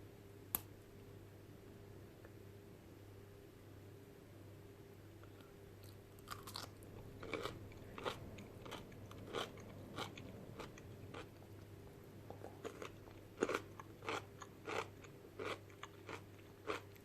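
Crunchy homemade cucumber pickles, a gherkin pickle made with peppers, are bitten and chewed close up. Sharp crisp crunches come in irregular bursts over a faint steady hum, and no one speaks.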